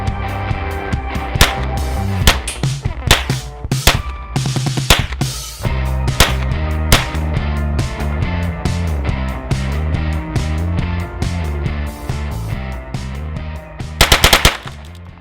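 A Tippmann M4 paintball marker fitted with a DIGITRIGGER fires rapid, loud, rhythmic bursts of shots, with brief pauses between strings and a dense final volley, close by and without talking.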